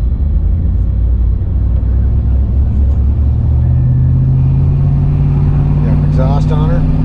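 Straight-piped turbocharged Can-Am Maverick X3 side-by-side engine, loud and steady with a deep rumbling drone throughout, rising slightly in pitch partway through, with a voice briefly heard over it near the end.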